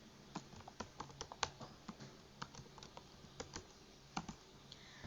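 Fingers tapping a computer keyboard to enter a username and password, a quick irregular run of sharp close key clicks with brief pauses, quiet room and no speech.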